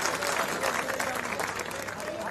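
Crowd applause at an outdoor political chaupal rally in Jhanda Chowk, Ateli, Haryana, a steady wash of clapping with crowd noise and a voice mixed in underneath, held at an even level throughout.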